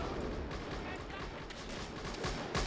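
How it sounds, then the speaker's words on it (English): Anti-tank and artillery guns fire in a WWII battle in Men of War: Assault, a dense ongoing barrage of booms and gunfire under a speaking voice. "AT guns, or artillery guns are firing too"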